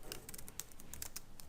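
Computer keyboard keys clicking during typing in a word processor, a quick run of light, close taps ending in a key press, faint and alone.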